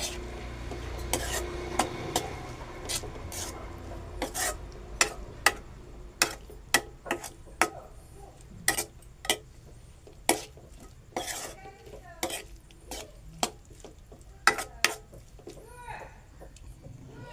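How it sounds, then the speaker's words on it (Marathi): Onions and turmeric stirred in a pan at home, a spoon or spatula scraping and clinking against the metal in steady, repeated knocks with a faint sizzle underneath. "मी आता ह्याच्यामध्ये हळद टाकतो. हे पहा, परतून घेऊ."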